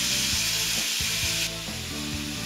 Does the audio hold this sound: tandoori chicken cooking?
yes